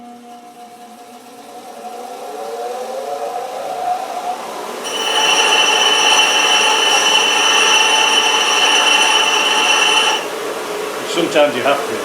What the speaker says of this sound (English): if you take a little shaving off the face here on the grinder and do it parallel